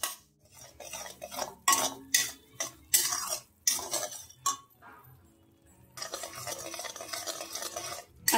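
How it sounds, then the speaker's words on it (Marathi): Semolina being stirred and dry-roasted in a pan over low heat for sheera, with repeated scraping strokes and metallic spoon clinks in uneven bursts, close and fairly loud. "आता आपला रवा छानपैकी ते भाजला जात आहे।"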